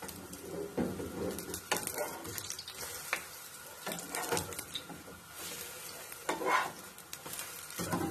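A vegan banana pancake fries in a hot pan, giving a soft sizzle with scattered clicks and scrapes of a spatula, close and moderately quiet, with a few brief clattering handling sounds.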